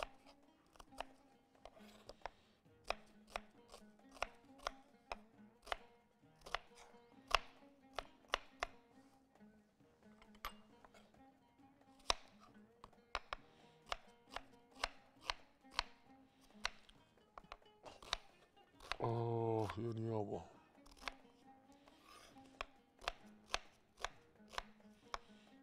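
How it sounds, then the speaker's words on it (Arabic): Onion chopped into large pieces on a cutting board: a long run of sharp, fairly regular knife knocks, close and distinct, with a brief louder burst of clatter partway through. "البصل تقطيع كبيرة"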